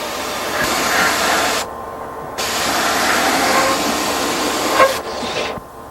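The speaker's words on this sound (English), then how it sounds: "you want to spray from many different angles to ensure that you're getting proper coverage without causing runs" Spray gun applying a coating to a surface, a loud hissing spray in several bursts with short pauses between passes, close and alone.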